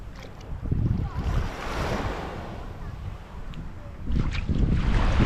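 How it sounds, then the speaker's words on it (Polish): Waves surging and washing onto the beach at Brzeźno in Gdańsk on a warm Friday afternoon, a continuous loud roar that swells and eases, with heavy wind buffeting the microphone. "Plaża w Gdańsku, Brzeźnie."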